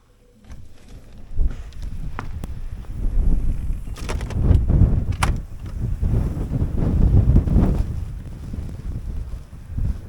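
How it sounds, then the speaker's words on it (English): Strong gusty wind roars and buffets the microphone outdoors, a loud low rumble that swells and eases continuously, with a few faint clicks. "Hang on to the door, it's pretty windy."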